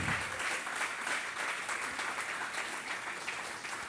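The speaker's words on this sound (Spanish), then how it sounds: "dale una ofrenda de palmas al Señor" A church congregation claps together as an offering of praise during a service. The applause is sustained and dense throughout, with faint surrounding room sound and no clear speech.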